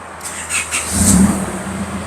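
A car engine cranks briefly and catches at a repair job, rising into a short rev before settling to a steady idle, close and clear.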